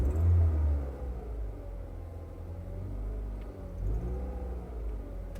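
A Chevrolet Cobalt car engine running with the revs raised, a steady low rumble with slight swells in pitch, heard up close without any talk.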